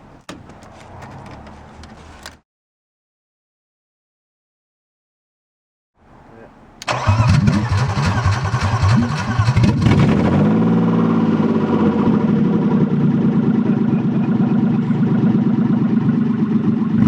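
BMW race car with open headers cranks and fires up after a pause, then revs loudly before settling into a steady, rough, loud idle; brief talk before the start.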